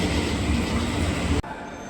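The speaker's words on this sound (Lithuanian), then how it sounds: "O mus pasodino į tokį traukinuką." A small tourist train rolls along rails on the way to a gem mine in Phuket, its steady rumbling wheel noise loud and continuous before cutting off abruptly near the end.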